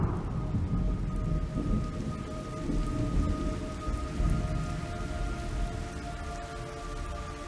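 Rain and thunder in the video game Metal Gear Solid Delta: Snake Eater, a steady heavy downpour with deep rolling rumbles swelling beneath it and a faint sustained tonal drone running throughout.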